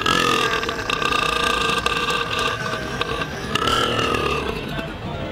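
A man lets out a loud, record-setting burp measured at 109.9 decibels, one long, raspy, rumbling belch that holds steady for several seconds before trailing off, close and overpowering.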